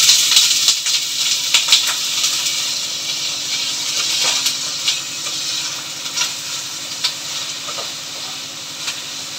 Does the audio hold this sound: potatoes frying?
yes